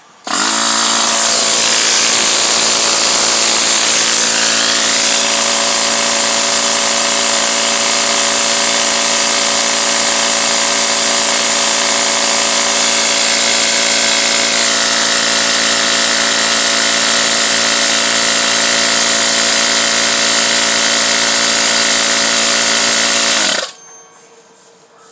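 An electric fuel lift pump on a Ram Cummins, under test for low lift-pump voltage, runs with a loud, steady mechanical whine and buzz that holds for about twenty-three seconds before cutting off abruptly.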